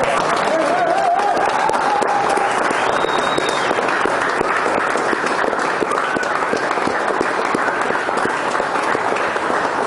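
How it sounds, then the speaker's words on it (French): An audience at a Brazilian jiu-jitsu belt ceremony at Maccabi Nice applauds the graduates, with loud, dense clapping sustained for about ten seconds, a few voices and whoops mixed in. "Alors, on peut les applaudir"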